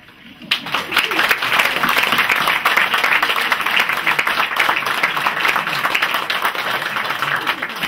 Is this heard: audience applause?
yes